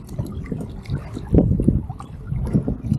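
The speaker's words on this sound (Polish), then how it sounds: "Wieje dzisiaj za mocno chyba na pływadełko." Strong wind buffeting a microphone outdoors near water, low rumbling gusts in uneven bursts with a heavier blast midway, loud and close.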